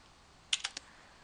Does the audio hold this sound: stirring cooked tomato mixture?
no